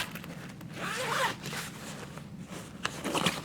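A zipper on a bag is pulled open in a few quick, soft rasping strokes, close by and fairly quiet.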